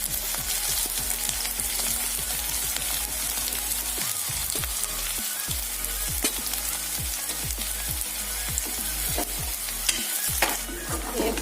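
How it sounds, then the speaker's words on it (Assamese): Chopped onions frying in hot oil over a low flame while being stirred, a continuous crackling sizzle with regular scraping strokes of a spatula against the pan, close and steady. "পিঁয়াজখিনি মই কম জুইতে লৰাই ভাজি আছোঁ।"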